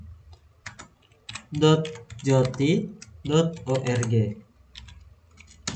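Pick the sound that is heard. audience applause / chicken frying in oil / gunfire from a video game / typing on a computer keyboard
typing on a computer keyboard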